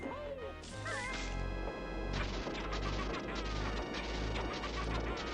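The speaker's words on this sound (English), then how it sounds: "That sound that you're hearing during this cutscene is Banjo touching Grunty's shield" Banjo-Kazooie game audio during a cutscene as Banjo touches Grunty's shield: dense crashing, whacking impacts and swooshes over busy music, loud and continuous throughout.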